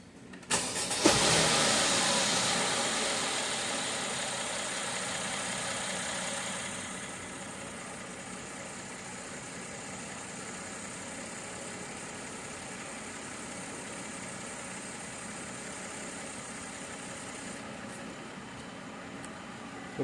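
A 2013 Mercedes ML fires up after an extended crank, roaring loudly at first and then settling within seconds into a steady, quieter idle that runs on alone.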